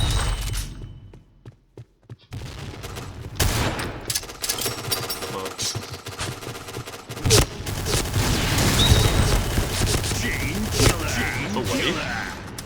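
Noveske N4 rifle fire and explosions in the shooter game Point Blank, with dense rapid bursts and booming blasts running almost continuously after a quiet opening, as a voice talks over the action.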